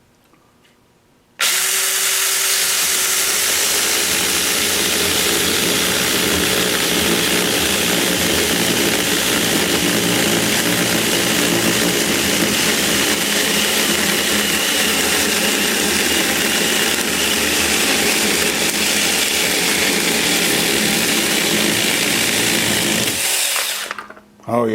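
A chainsaw mounted on a lathe cuts wood, starting abruptly after a quiet moment and then roaring at a loud, steady pitch for about twenty seconds before cutting off.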